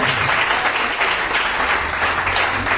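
Church congregation applauding during a sermon, a dense and even wash of many hands clapping at once, loud and sustained throughout with no talk over it.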